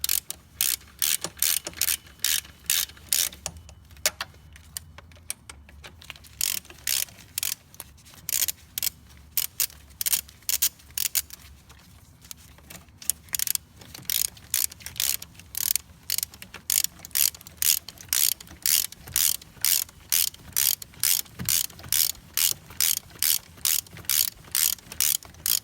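A ratchet wrench clicks in fast, regular bursts while tightening bolts on an aluminum EGR block-off plate on a Duramax LML diesel. The close, crisp clicking runs through the whole stretch with brief pauses between strokes.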